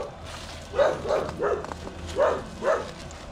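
A dog barks five times in a loose, uneven series at a moderate distance, set against a steady low rural background hum with no voices present.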